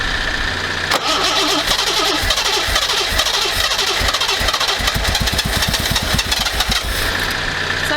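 A Reliant Scimitar engine with a misfire, choke pulled out, cranks with a fast rhythmic churn, then catches and runs loud and close with an uneven, stumbling beat before cutting out.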